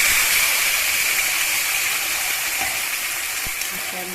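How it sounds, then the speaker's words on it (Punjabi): Cumin and spices fry in hot oil in a kadhai, giving a steady, close, bright sizzling hiss that runs unbroken and fades slightly toward the end. "ਹੁਣ ਆਪਾਂ ਇੱਧਰ ਕੜਾਹੀ ਦੇ ਵਿੱਚ ਤੇਲ ਪਾ ਲਿਆ ਤੇ ਪਾਵਾਂਗੇ ਜੀਰਾ"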